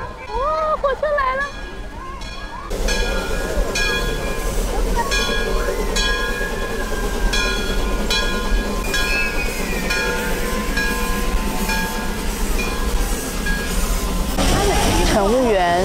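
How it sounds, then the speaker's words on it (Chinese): A 19th-century narrow gauge steam train pulls into Roaring Camp in a redwood forest, a steady loud rolling rumble with squealing wheel tones and hissing, while several people talk excitedly over it throughout. "乘坐19世纪的窄轨蒸汽小火车，这是一段忘记时间的红杉林路线"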